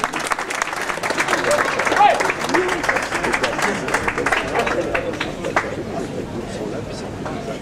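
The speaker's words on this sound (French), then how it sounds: "Les applaudissements, messieurs," Audience applause at a Yverdon 2024 event, a dense steady patter of many hands with crowd murmur and voices mixed in throughout.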